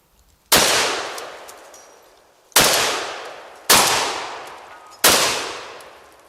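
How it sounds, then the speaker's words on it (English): A fire-damaged, restored Remington 1100 shotgun fires low-recoil buckshot: four loud, sharp blasts, each trailing off in a short echoing decay. The first two are about two seconds apart, and the last three come closer together. No talking. "I'm trying some low recoil buckshot. Let's see what that does."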